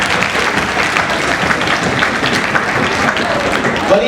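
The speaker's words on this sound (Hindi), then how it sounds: "तालियां थोड़ी बजाएगा।" Audience applause at a comedian's comedy show, dense steady clapping from a crowd with some voices and cheers mixed in, loud and continuous throughout.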